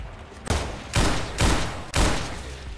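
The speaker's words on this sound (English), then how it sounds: "I gotta use my pistol on these guys." Pistol gunfire in the zombie survival game Decaying Winter: four loud, sharp shots spaced roughly half a second apart, each a broad cracking burst with a short decaying tail, close and alone without talk.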